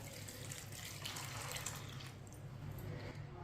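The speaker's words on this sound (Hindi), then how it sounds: "तीन गिलास पानी डाल लेंगे।" Three glasses of water are poured into a wok holding mash dal, a faint continuous splashing stream running steadily under a low background hum.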